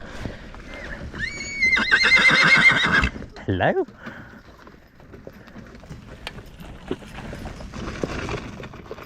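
A horse whinnies loudly and shrilly nearby on the island of Sark, then hooves clip-clop steadily on a hard road while a person briefly speaks.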